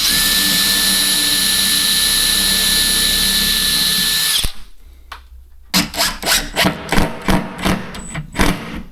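A power drill drives screws through glued rails into a shelf side panel, a steady loud whine for several seconds, then after a pause a run of short, rhythmic bursts as each screw is sunk.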